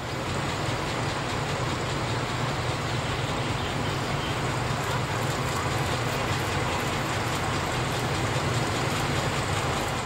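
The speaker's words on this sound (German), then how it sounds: "Anschließend zieht auch der Personenzug in Gleis 1 vor zum Empfangsgebäude." Passenger train on the Kiel-Schönberg light railway pulling forward along platform track 1 toward the station building, a continuous loud rumble and rolling clatter of wheels that holds steady throughout, with no voices.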